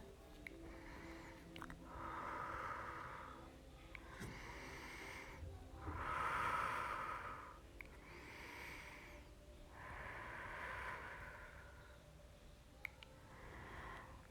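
During an active yoga-style exercise practice, a person breathes deeply and audibly through a series of slow, rhythmic inhales and exhales, each breath a soft airy rush repeating about every two seconds, close and fairly quiet.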